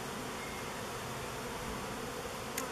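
Dense, steady swarm of honeybees droning around a nuc hive during an inspection, a continuous close buzz filling the air with individual bees whizzing past.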